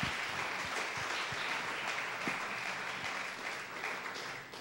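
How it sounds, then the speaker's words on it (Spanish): A congregation at a Yom Kippur service applauds continuously, a dense, steady wash of many hands clapping throughout, tapering slightly at the very end. "Démosle un aplauso al Rey"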